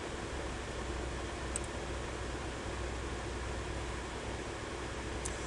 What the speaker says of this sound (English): apologies for the noise from all the fans and aircon